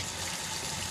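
Cold water running from a kitchen tap onto a pot of freshly cooked chicken and sausage for Cajun gumbo, a steady close hiss of flow throughout the short moment.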